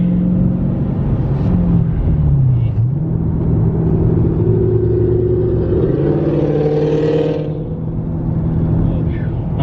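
Dodge Challenger Hellcat widebody with a manual transmission driving, a loud continuous engine rumble heard from inside the car, with pitch rising and falling as the revs change through the gears.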